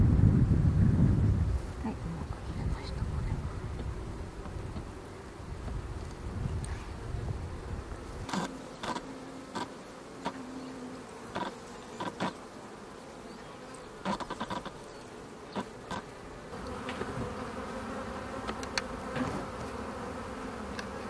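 Worker honeybees cluster around a queen bee whose wings have been clipped, giving a steady close buzzing drone with scattered sharp clicks and handling noises throughout.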